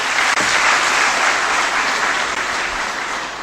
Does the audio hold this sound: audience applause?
yes